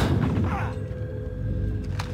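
Low booming thuds and rumble of gunfire in Warzone, a few heavy hits at the start fading into a low drone.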